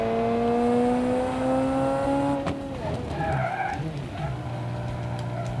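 A race car in the Automation game spins its wheels, engine tone sweeping up and down with a tire squeal in the middle, moderately loud with no voices.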